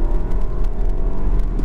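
An Audi Q5 Ambition pulls away hard under launch control, its engine note a strong, close whirring roar that holds steady through the short burst with no talking.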